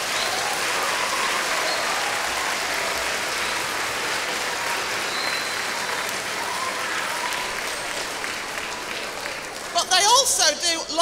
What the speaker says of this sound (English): So can we have a round of applause for all the children that have done all of that?